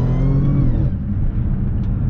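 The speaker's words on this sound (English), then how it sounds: "the blower sounds super good" A supercharged Audi S4, still lacking a proper exhaust, revs loudly up close, its blower whine rising over a deep engine rumble before settling into a steady drone.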